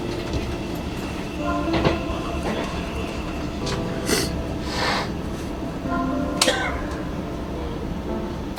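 Passenger train riding toward Madrid, heard from inside the carriage as a steady rumbling drone with occasional clicks and rattles from the track, continuous throughout.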